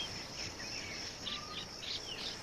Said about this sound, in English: I hear insects.